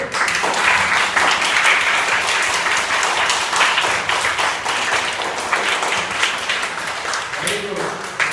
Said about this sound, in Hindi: हम सारे प्यारे बच्चों की ताली बजाएं और सबका स्वागत करें